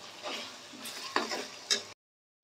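Neem leaves dropped into fish frying in a pan, giving a steady bright sizzle with a few sharp crackling pops and stirring scrapes before it cuts off abruptly.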